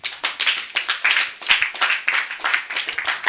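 A church congregation claps in a steady, fast rhythm to acclaim the Lord, with many hands striking together close and loud throughout.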